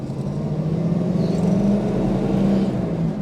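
A 1963 Studebaker Avanti R1 cruising on the road, its engine giving a steady, continuous low rumble and drone with a faint whir, heard from inside the car throughout.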